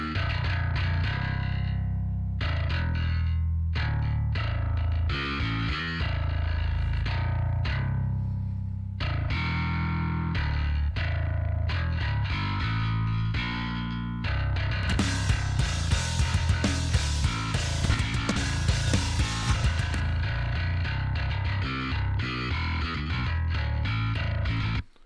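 Distorted bass guitar played through effects, a thick, gritty low-end tone in sustained notes and rhythmic phrases, growing brighter and busier over the second half, with no talking.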